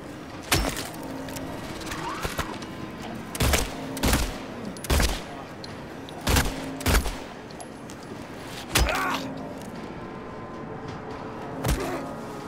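Gunshots fired at an enemy in the 2024 video game Silent Hill 2: about nine loud, punchy shots spaced irregularly over a low ambient game background, with no talking.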